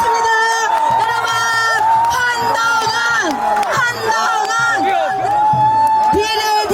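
A large outdoor crowd at a South Korean election campaign rally cheers, whoops and claps continuously, loud and close, while an announcer's amplified voice talks over the noise.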